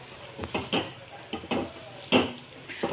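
Pieces of leftover roti seasoned with garam masala are stirred in a pan, with a spoon scraping and clacking in irregular strokes over a soft sizzle, close and clear, about six distinct stirs.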